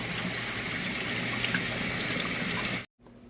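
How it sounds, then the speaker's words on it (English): Running tap water pours steadily over rice being rinsed in a pot, a continuous close splashing gush that cuts off abruptly near the end. "You want to get all the rice rinsed until the water starts to run clear."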